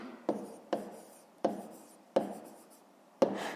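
A pen strikes and scratches on paper in short strokes, five distinct marks spaced unevenly, close and quiet, with no talk over them.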